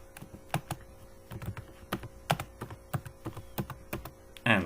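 Keystrokes on a computer keyboard as C++ code is typed, a quick irregular patter of close, crisp taps with brief pauses, ending in a slightly louder clatter.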